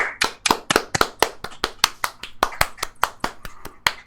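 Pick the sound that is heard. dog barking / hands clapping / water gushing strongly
hands clapping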